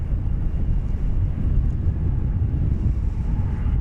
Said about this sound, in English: That was American Eagle 6447 arriving from Santa Fe, New Mexico on a CRJ 701 ER.